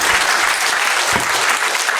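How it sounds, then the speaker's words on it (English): Live comedy show audience bursts into loud, dense applause, steady and close throughout the whole two seconds with no talking. "Another round of applause for him."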